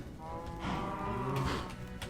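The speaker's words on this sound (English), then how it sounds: "you feed the wheat to the cows, they make the baby cows" Cows in the Minecraft video game moo, a couple of low, drawn-out bellows overlapping in quick succession, fairly faint and alone with no talk.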